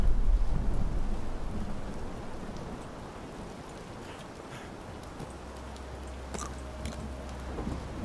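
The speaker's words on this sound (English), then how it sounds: "I like the effect of the rain on this map." Steady rain hiss on a map in the horror game In Sound Mind, a constant wash with faint low rumble and occasional soft ticks, no voices.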